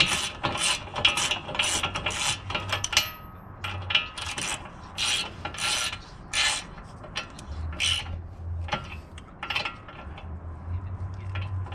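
Repeated ratchet clicks and metallic rasping as a wrench turns a tie rod nut on a Toyota RAV4, in short bursts with brief pauses, close and fairly loud.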